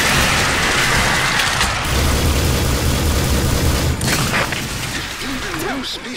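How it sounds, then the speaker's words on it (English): Limpet mines detonating in the Earth Defense Force 4.1 video game, a dense run of heavy booms and crackling blasts that fill the clip, with game noise and a brief synthetic warble near the end. "I've got limpet mines, so attack the mines and I use the right mouse button to explode them."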